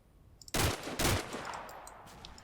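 Gunfire in the video game Combat Mission: Black Sea, with two loud sharp bursts close together, each trailing off into a brief echoing tail, and quiet background before them.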